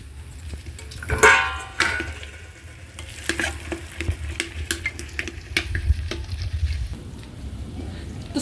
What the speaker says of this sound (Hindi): तो सब मसाले अच्छे से इसमें भून चुके हैं।